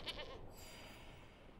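A goat token in the digital card game MTG Arena gives a short bright bleat near the start, followed by a low, steady game background hum.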